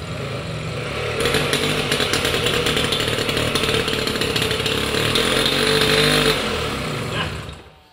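A Vespino Sport moped engine fires up and runs, a loud buzzing two-stroke rattle held for several seconds with slight revving, then dies away at the end.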